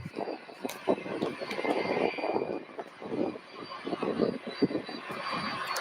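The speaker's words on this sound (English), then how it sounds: "And here we go with another Boeing 767, shocker." A Boeing 767 at Louisville airport produces a distant, fluctuating jet engine roar with a gusty rumble that swells and fades over a faint steady background hum.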